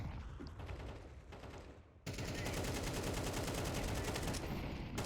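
Gunfire in the video game Counter-Strike 2, heard as dense, rapid automatic bursts that begin abruptly partway through and continue without pause to the end, loud and sharp over earlier quieter game noise.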